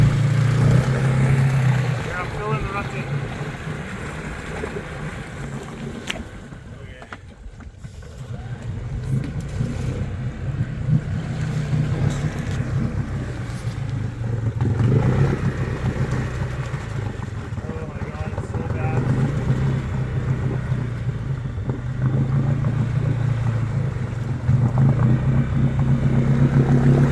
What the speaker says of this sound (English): terrible for water wheelies. There's no grip.